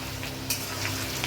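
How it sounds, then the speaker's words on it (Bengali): Capsicum hits a pan of fried onion and garlic for chilli chicken, with a continuous close sizzle, one sharper scrape of stirring near the middle, and no voices. "ক্যাপসিকামটাও, পেঁয়াজ রসুনটা ভাজা হয়ে গেছে, এবার ক্যাপসিকামটাও ভেজে নেব"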